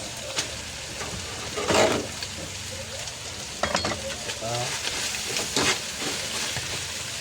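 Carrots hit a hot frying pan with stir-fried ginisa mix, a steady close sizzle with scraping stirs and occasional louder crackles, a faint voice briefly under it.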